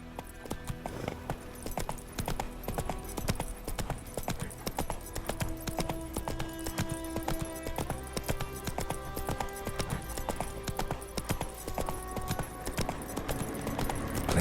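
A horse gallops in The Witcher 3 with a rapid, steady clip-clop of hooves that continues for the whole stretch. Game ambience plays underneath, and the hoofbeats are close and evenly paced.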